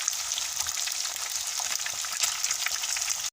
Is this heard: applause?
no